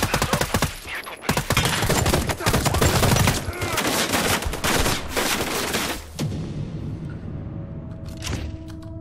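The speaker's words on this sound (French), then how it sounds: "On me tire dessus!" Rapid bursts of automatic gunfire and shots in Sniper Ghost Warrior 3, loud and dense for several seconds, then thinning to scattered shots and echoes near the end.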